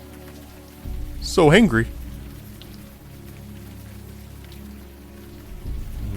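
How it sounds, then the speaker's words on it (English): Steady rain falls in the video game Unavowed, a soft even hiss running throughout, with a brief spoken line near the start. "Let's head inside out of the rain."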